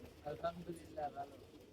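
Pigeons coo nearby in soft, rounded, repeated calls, a few short phrases at moderate loudness with voices talking around them.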